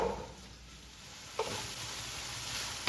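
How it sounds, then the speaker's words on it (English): Sausage with onions and garlic sautés in a pan, a soft steady sizzle with a brief scrape of stirring partway through, fairly quiet and close. "I'm just going to saute this till it's all cooked"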